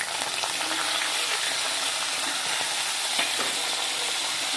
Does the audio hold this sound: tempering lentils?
yes